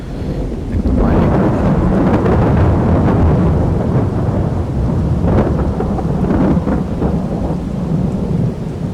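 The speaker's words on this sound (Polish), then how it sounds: "Straszna ta burza jest." Thunderstorm in the farming video game Farming Simulator 22: a steady, loud roar of heavy rain with rolling rumbles of thunder running throughout, close and continuous with no talk over it.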